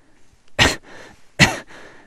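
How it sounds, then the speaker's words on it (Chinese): Two harsh, forceful coughs burst out about a second apart, close and loud, with wheezy breathing trailing after each one. "剧烈的咳嗽声响起"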